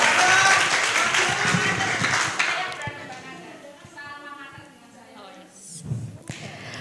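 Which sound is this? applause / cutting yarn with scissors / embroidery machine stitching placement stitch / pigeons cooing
applause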